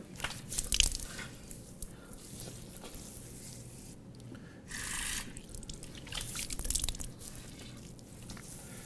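Water splashes and drips as a face is washed by hand during ritual ablution, soft irregular splashing and trickling with a brief louder pour midway, fairly close and with no speech.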